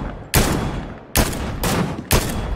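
Gunfire in the video game Fortnite: four loud, sharp bursts of shots about a second apart, each trailing into a dense rattling tail, up close with no talk over them.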